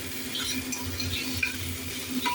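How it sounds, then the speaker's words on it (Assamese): Washed moong dal frying in a pan, a faint, steady sizzle with soft stirring scrapes, heard quietly and without any voices. "এতিয়া দালিখিনিৰ লগতো অলপ ভাজি লওঁ"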